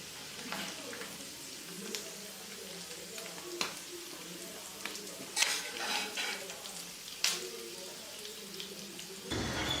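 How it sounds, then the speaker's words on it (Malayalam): Squid frying in hot oil sizzles faintly and steadily as it is stirred and lifted out, with occasional scraping clinks and a short burst of tap water near the end. "അപ്പതാ നമ്മുടെ മീന് നന്നായിട്ട് ഫ്രൈ ആയി വന്നിട്ടുണ്ട്. ഇനി നമുക്കിതിനെ എണ്ണയിൽ നിന്നും കോരി മാറ്റാം."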